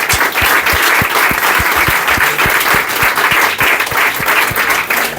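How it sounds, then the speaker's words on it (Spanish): Steady audience applause fills a lecture hall at the close of a talk on Protestantism and Hispanidad, a dense continuous wash of clapping with a few sharper individual claps standing out, loud and sustained throughout. "Un aplauso, por favor."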